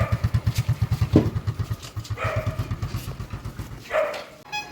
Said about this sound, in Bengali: এই বাইকে স্টার্ট দিয়ে বেরিয়ে পড়লাম আস্তে আস্তে করে